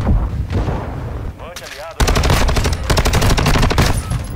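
Rapid bursts of automatic gunfire from a shooter video game, loud and close, with a brief pause and some single shots before a sustained fast-firing volley runs to the end.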